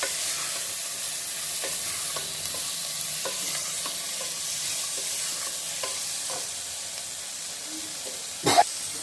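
Spices and ground peanuts fry for a bottle gourd curry, making a low, continuous sizzle broken by regular soft scrapes of a stirring spoon, with one sharp knock of the utensil near the end.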